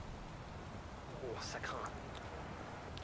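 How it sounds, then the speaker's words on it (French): Rain falling in the Watch Dogs 2 video game, a steady, soft hiss throughout with a few brief higher sounds rising above it midway. "Oh, c'est vrai qu'il pleut, c'est chiant."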